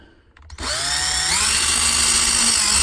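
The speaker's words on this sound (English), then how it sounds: "you start with your drill bit you just used for your wheels" A drill runs steadily with a bit gripped tightly in pliers during work on a 1966 Pontiac GTO, a loud continuous whine starting abruptly after a short quiet moment and holding to the end.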